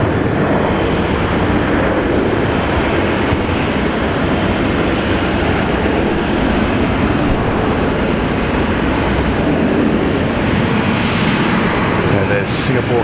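A Singapore Airlines A350 jet at Brisbane airport gives off a loud, steady, broadband engine roar that holds throughout, close and unbroken, with no clear voices over it.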